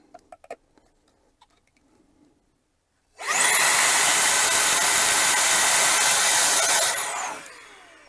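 Metabo air blower fitted with a concentrator nozzle, blowing onto a scale: a few soft clicks, then a loud steady high-pitched rushing whoosh that runs about four seconds and winds down, with no talking.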